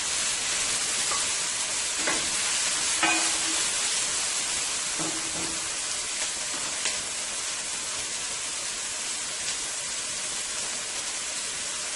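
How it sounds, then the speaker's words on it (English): Eggplant and shrimp stew for Guyanese baigan sautéing in a pot, giving a constant soft hiss of frying with a few faint clinks of stirring, steady and even, no talking. "You just want it to saute it a little for about a minute or 2."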